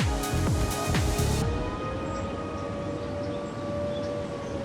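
An air raid alert siren sounds over a beach in Chornomorsk, a long steady wail that holds and slowly bends in pitch, heard at a distance over constant background noise after a brief burst of nearby clatter.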